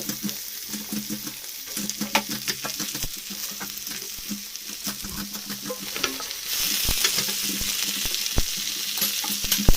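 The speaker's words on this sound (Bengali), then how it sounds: "সব সবজি আমি এর মধ্যে একবারে দিয়ে তিন চার মিনিট নাড়াচাড়া করে ভেজে নেব" Winter vegetables fry in oil with panch phoron, dried red chilli and bay leaf, giving a steady close sizzle broken by frequent clattering stirs against the pan. The frying hiss grows brighter and louder in the later part.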